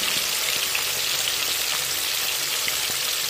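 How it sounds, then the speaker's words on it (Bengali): Chicken frying in a pan for a new-potato chicken curry, giving a steady, close hiss and crackle with soft pops throughout and no talk. "দেখুন, অন্যদিকে চিকেনটা আমি ভাজা বসিয়েছি"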